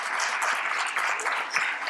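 A lecture audience claps for the city mayor at a talk on policing ethics, brisk steady applause from a moderate crowd, fairly close and without speech.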